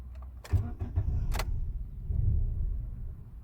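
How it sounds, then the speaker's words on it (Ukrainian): A car engine turns over in short bursts, cranking with a low rumble that doesn't quite catch, close by, in cold weather around minus 20. "Пробую запустити автомобіль."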